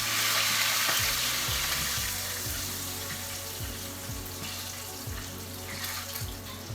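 Something lightly frying in oil in a pot gives a loud, continuous hiss and crackle, close by, with repeated low clunks and knocks underneath and no talking.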